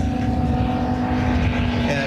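A Futura model aircraft makes a low pass down an airshow runway, its steady engine drone loud and close throughout with a slight rise near the end.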